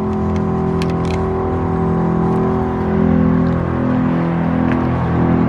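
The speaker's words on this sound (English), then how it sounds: "Here the air compressors kick on" Air suspension compressors on a 44-foot Diamond C gooseneck trailer kick on, producing a loud, steady droning motor hum that swells slightly partway through and keeps running close by.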